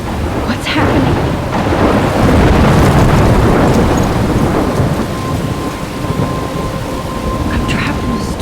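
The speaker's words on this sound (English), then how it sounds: "I'm trapped in a storm." A thunderstorm with heavy rain: a dense, loud roar of downpour fills the whole stretch, with deep rumbling thunder swelling beneath it and a few brief louder cracks.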